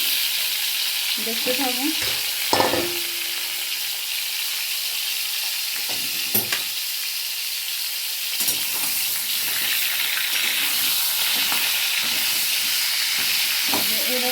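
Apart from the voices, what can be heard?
frying pointed gourd (potol) in oil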